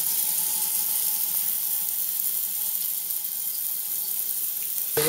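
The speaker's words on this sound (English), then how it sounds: "And we can hear it starting to fill up with water." Brewbot home brewing machine filling with water at the start of a brew: steady hissing rush of running water, continuous and fairly close, with no talk.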